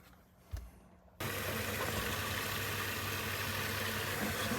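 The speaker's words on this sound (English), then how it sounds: "the boiler's fired straight away" A gas boiler firing up: after a brief quiet stretch with a click, a sudden steady broadband roar of ignition kicks in and holds at a constant level.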